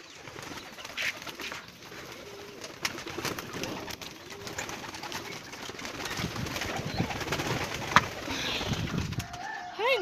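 A flock of pigeons coos steadily while being fed, with soft throaty calls, pecking and occasional wing flutters close by.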